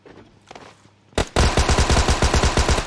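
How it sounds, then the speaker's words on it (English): Rapid automatic gunfire from a team shooter match, loud and close: a sudden blast and brief pause, then a sustained burst of evenly spaced shots about every tenth of a second, with quieter scattered movement sounds before it. "Slayer's trying to shoot from that window, but he got hit a bit from that"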